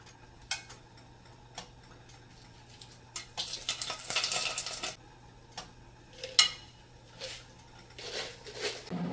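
Bay leaf, cloves and cardamom sizzling in hot coconut oil, quiet crackling with scattered ticks and taps of a utensil and a louder burst of sizzle partway through.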